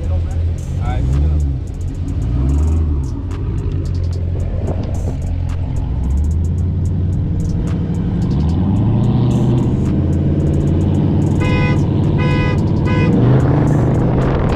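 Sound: Dodge Charger 392 accelerating hard from a dig

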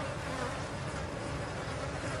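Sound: wasps and flies buzzing in a meadow

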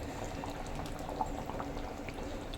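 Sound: fish curry boiling in the pan

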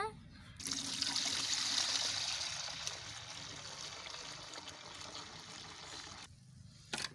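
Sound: washing soaked urad dal (black gram) in water

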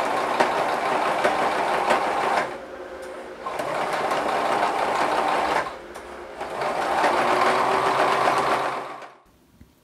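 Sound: sewing machine top stitching a dress edge

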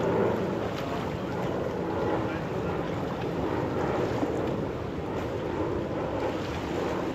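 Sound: boat with 70 horsepower motor

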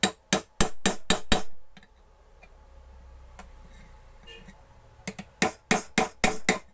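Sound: hammer tapping out riveted strip of mixer grinder motor

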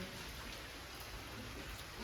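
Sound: rain falling on a rainy day

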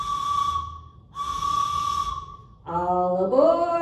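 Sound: train whistle

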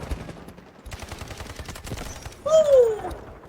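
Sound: gunfire from video game Delta Force

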